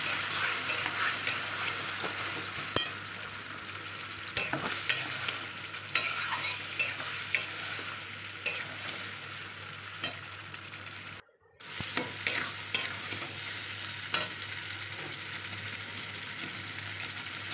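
Sliced pointed gourd hits hot oil already holding fried garlic, onion and chillies, giving a steady close sizzle with scattered scrapes and taps of a spatula. A short gap of silence cuts in partway through.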